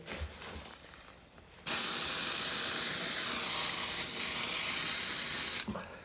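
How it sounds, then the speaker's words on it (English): An aerosol spray can is held upside down and given one quick squirt to clear a clogged nozzle, a loud, close hiss lasting about four seconds that starts sharply and cuts off abruptly, with quiet room noise around it. "you can hold your can upside down and just give it a quick squirt, and it should clear that nozzle for you"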